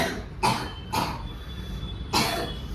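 A child coughs three times in short bursts, close and fairly loud, with brief pauses between.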